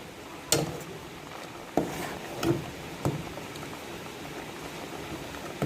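A pot of bamboo shoot curry with mushrooms bubbles quietly and steadily, broken by a few sharp clacks of a utensil or lid against the pot.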